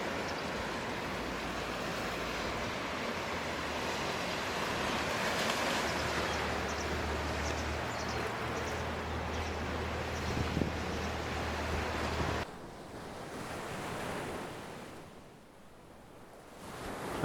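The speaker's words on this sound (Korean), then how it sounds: "들판 위의 바람." Steady wind sweeps across an open field on Jeju, a broad rushing roar with low rumbling gusts that runs loud for about twelve seconds, then drops to a thinner, quieter breeze.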